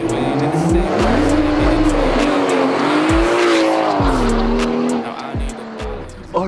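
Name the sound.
tuned car engine roaring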